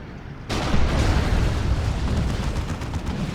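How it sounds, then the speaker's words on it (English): Basilisk creeping barrage artillery in the Dawn of War 2 strategy game starts with a sudden loud impact, then rumbles on as a dense, sustained roar of overlapping explosions. "What is this? Basilisk, Creeping Barrage."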